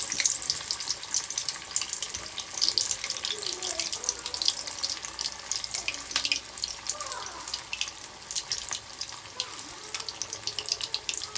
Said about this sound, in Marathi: हे बघा तर असेच करून मी सगळे तळून घेते